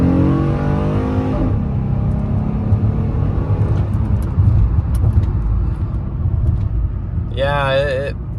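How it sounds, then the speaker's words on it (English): A 2004 Chrysler 300M revs hard and spins its tires, a loud sustained engine roar with broadband tire noise throughout, and a brief high whine near the end. "Spin the tires."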